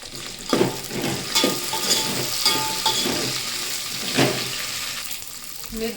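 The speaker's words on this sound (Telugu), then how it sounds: "మిర్చి అయితే మంచిగా వేగినాయి ఫ్రెండ్స్" Green chillies sizzling and frying in a pan for Telangana-style tomato chutney, with curry leaves added, a steady close crackle broken by a few louder stirring scrapes.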